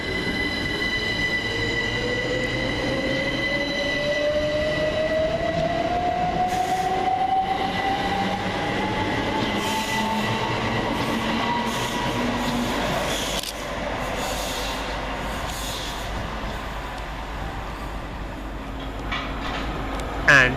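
Two Great Western Railway Class 387 electric trains pass on the slow line between London Paddington and Reading, a loud sustained rolling roar with rising wheel squeal and rhythmic clatter over rail joints, fading slightly toward the end.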